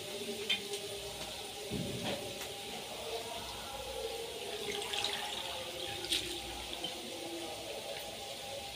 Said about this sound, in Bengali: চাউমিনগুলো এখন ছেঁকে নেব